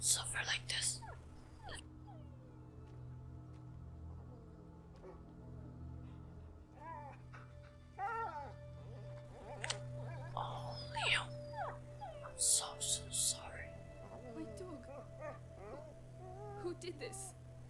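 A dog whimpers and whines softly in A Plague Tale: Innocence, with brief high cries that rise and fade through the clip over a steady low game ambience, while a voice whispers quietly at times.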